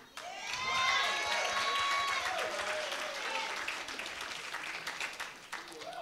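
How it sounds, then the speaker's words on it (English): An audience applauds and cheers for a stand-up comedian at a televised comedy show, a steady roar of clapping with whoops and crowd voices that swells early and holds before easing slightly. "Give me a round of applause, ladies and gentlemen."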